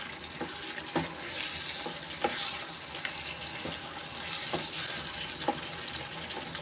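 A spoon stirs quail masala gravy in a sizzling pan, with a soft continuous frying hiss broken by light scraping clinks at irregular intervals, fairly quiet and with no voices.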